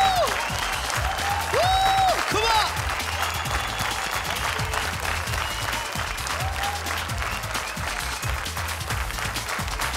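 Loud, sustained applause from a large audience at the PTC Punjabi Film Awards 2012 ceremony, dense clapping filling the hall steadily throughout with a faint voice briefly audible beneath it.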